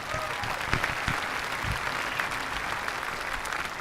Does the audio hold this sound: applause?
yes